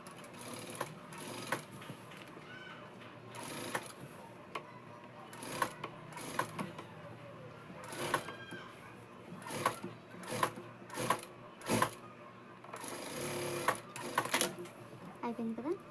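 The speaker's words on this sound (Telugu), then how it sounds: "ఇలా రౌండ్గా నెక్ అనేది కుట్టేసుకోవాలి అంతే" Domestic sewing machine stitching the round neck of a Punjabi dress, running in short bursts of rapid mechanical clatter with brief pauses, close by, while a person talks intermittently.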